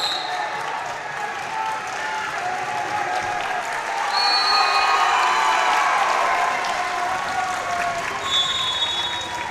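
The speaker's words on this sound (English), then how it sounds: "Rock South faithful cheering behind us." Home crowd at a high school wrestling dual meet, a district semifinal, cheering and applauding steadily in a gym, swelling midway through, with scattered voices over the roar.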